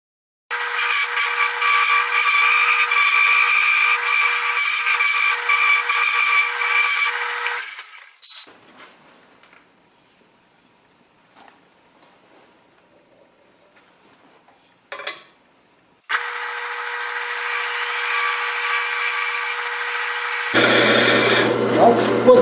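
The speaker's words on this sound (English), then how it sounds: "That's what you want to hear. Nice, smooth cutting, not chatter." A wood lathe turning a goblet gives a loud, steady, smooth cutting hiss, then goes near silent for several seconds before the continuous cut resumes, ending in a lower hum.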